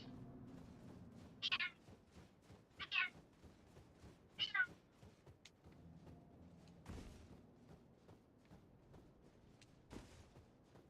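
A cat meows three times in short, evenly spaced calls, faint against a quiet background in an Elden Ring session. Softer thumps and brief noises follow, with no clear speech.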